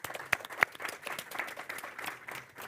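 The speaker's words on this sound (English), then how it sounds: "just wanted to have a quick round of applause for everything they put into this" Brief applause at an economic growth summit for the event team, with a couple of sharp near claps standing out over a soft, scattered patter that stays fairly quiet.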